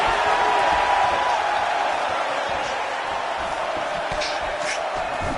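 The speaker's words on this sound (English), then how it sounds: "you hear the crowd react every time they come together" A dense, steady crowd roar fills a UFC fight arena, a large audience murmuring and shouting continuously, with brief surges of whoops rising above the din.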